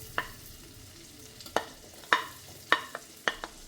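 Sausage cooks in melted butter in a pan, a soft sizzle under a handful of sharp, separate knocks and scrapes from stirring, close by with no talk.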